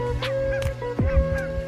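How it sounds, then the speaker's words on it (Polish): Barnacle geese and other geese honk outdoors near a lake at Hornsund on Spitsbergen, giving a few close, loud calls over a steady background hum. "Wokół latają bernikle i gąski, i kaczki."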